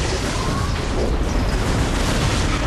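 A boss in Metroid Prime 3: Corruption fires a laser attack during Hypermode, a loud, dense roaring blast of sustained energy and rumble filling the whole stretch without pause.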